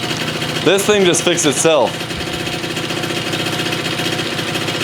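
A free used scooter's small engine idles steadily after starting on the first kick without choke, its putter running throughout, with someone talking over it near the start.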